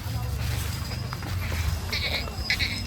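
Calves bleat two or three times near the end at a cattle market in Chalisgaon, over steady background chatter and low crowd noise.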